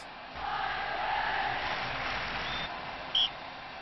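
Friendly crowd applause in the Anstoss football manager video game, a steady broad wash of clapping from a stadium audience at moderate level, lasting throughout with a brief higher blip near the end.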